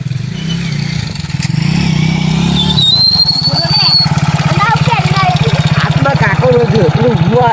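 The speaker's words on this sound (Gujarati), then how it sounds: "બાઇકનો અવાજ તો આ આવતો હે" A motorcycle engine runs close by with a steady low throb that turns into a fast, pulsing chug partway through, while voices talk over it.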